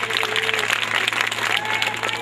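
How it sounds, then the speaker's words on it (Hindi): A crowd claps for dancers at an Independence Day cultural program, a brief burst of close, dense clapping with a steady low hum and faint voices mixed in. "एक बार जोरदार तालियां बजा दीजिए।"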